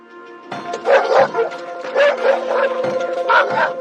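A police search dog barks and yips repeatedly near a car park, loud and close, with short whimpering tones between the barks.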